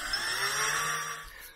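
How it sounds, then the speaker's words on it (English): A power drill bores a small divot into a mounting part while an MLA loop antenna is being set up, a steady high whine running for over a second, close and fairly loud, then trailing off. "I'm gonna try and drill"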